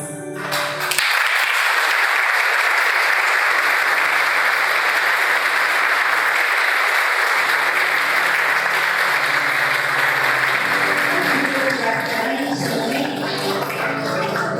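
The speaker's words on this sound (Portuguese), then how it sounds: "darmos uma calorosa salva de palmas" A church congregation applauds their departing priest at a farewell service in a Brazilian parish, the clapping loud, dense and sustained for about fourteen seconds, with faint organ-like tones underneath toward the end.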